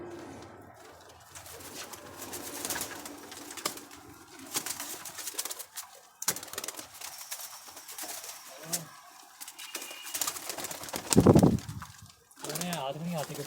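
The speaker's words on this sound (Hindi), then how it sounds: "सुपर सुपर क्लास के कबूतर हैं मेरे" Galway and other high-flyer pigeons cooing in a home loft, intermittent low coos scattered among handling noises and someone talking, one louder burst near the end.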